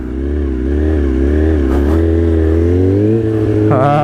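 A stunt motorcycle is ridden on dirt. Its engine drones loud and close, revving up and down with a sharp rise near the end.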